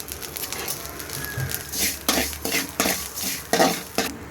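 A spoon stirs and scrapes dry-roasting spices and salt in a metal pan for South Indian idli podi, with repeated scraping strokes and light clinks, close and moderately loud.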